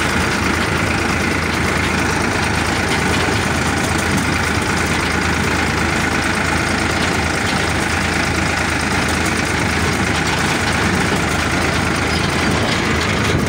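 A Ford 3600 tractor engine idles with a steady, dense diesel chug and clatter, loud and close, running alone without talk.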